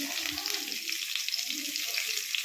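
Whole spices, cashews and sliced onions frying in a pot of oil for paneer pulao, a steady close sizzle with a bright crackling hiss running continuously throughout.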